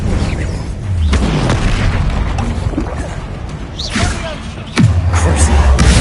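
A Confringo spell explodes in Hogwarts Legacy, a deep booming blast with sharp bursts that rises out of a dense, loud game soundscape of continuous noise.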